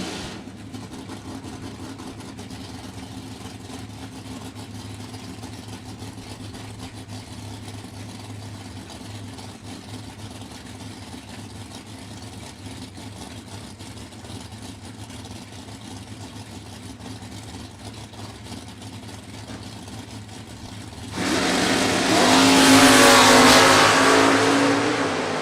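Chevrolet-powered Mustang drag racing cars at a drag strip, a long steady idling engine drone that suddenly erupts into a loud roaring launch near the end, with no talking.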